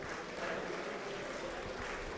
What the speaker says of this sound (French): C'est malgré tout une très belle manche, on peut les applaudir.